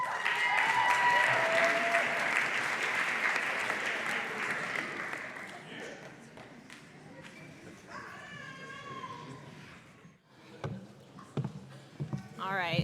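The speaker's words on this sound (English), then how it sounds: "I know they have had a lot of applause" A graduation audience at Eagle Academy's spring 2019 ceremony applauds loudly for the graduates, dense clapping that fades out over several seconds, followed by scattered voices and noises.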